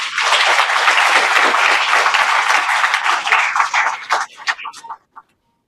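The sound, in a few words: audience applause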